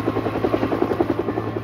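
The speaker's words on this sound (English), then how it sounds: "They rigged a helicopter to carry more primitive electronic surveillance gear." A helicopter flies overhead with a steady, pulsing rotor chop, loud and close, holding an even rhythm from start to finish.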